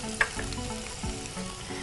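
Zucchini and capsicum sizzling in hot oil for a Thai sizzler, a soft steady fry with a few light clinks and scrapes of a spoon, no talking.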